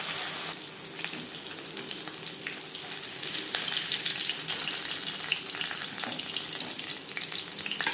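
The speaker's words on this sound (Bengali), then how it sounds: "প্রথম ব্যাচে মাছ ভাজা হয়ে গেছে একটা পাত্রে উঠিয়ে নেব" Sarputi fish frying in oil for a fish curry: a steady, dense sizzle and crackle of hot oil, close and continuous, with occasional faint clinks and stirring underneath.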